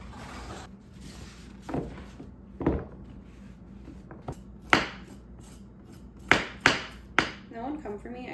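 Knife chopping carrots on a cutting board for a dinner salad in a home kitchen, a handful of sharp separate cuts spaced irregularly over low room background.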